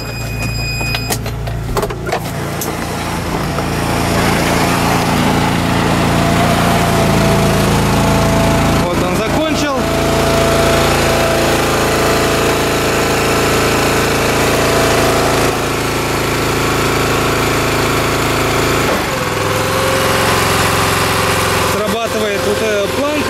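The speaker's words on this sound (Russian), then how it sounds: "покажу вам обмотчик, как он работает" A wrapping machine, a farm wrapper, running with a steady loud motor drone and mechanical hum that shifts pitch slightly and dips briefly near the end.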